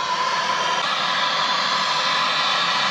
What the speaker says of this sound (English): propane MAP gas torch. Just going to throw some heat on it, that's all.